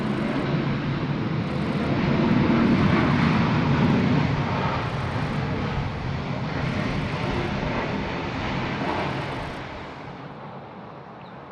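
Jet airliner at Sydney Airport, heard from the control tower, a loud broadband engine roar that swells, holds steady, then gradually fades away over about ten seconds.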